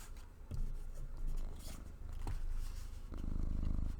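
A large 25-pound house cat purrs close to the microphone, a low rhythmic rumbling that pulses in breaths, with a few soft rustles from pages being handled nearby.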